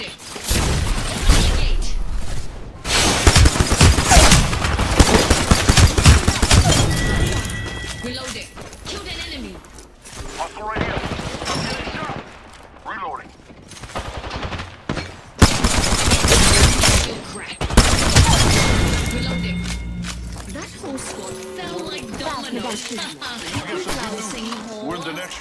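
Rapid bursts of gunfire in an Apex Legends battle, volleys crackling loudly in dense clusters with brief lulls, a voice talking over the shooting.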